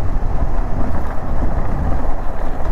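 A car cruises in fifth gear on the Mumbai–Goa highway, NH66, giving a dense, steady low road and engine rumble with buffeting wind noise, heard loud and close from inside.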